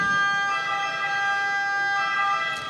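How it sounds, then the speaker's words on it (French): A steady electronic siren wails at a rescue equipment exhibition to signal the start of a shelter deployment demonstration, loud and continuous with a slight shift in tone near the end. "C'est la sirène du top départ"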